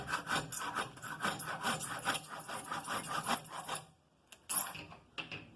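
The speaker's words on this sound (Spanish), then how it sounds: "una otra solución también es entrar directamente con el serrucho así." A handsaw cuts through wood during a woodcarving and joinery job in rapid, rhythmic rasping back-and-forth strokes for about four seconds. The sawing stops, then two short scraping strokes follow.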